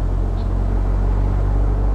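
A 1962 Mercedes 190 SL Roadster engine runs steadily while driving, a continuous low rumble with road noise holding at an even level throughout, no voices.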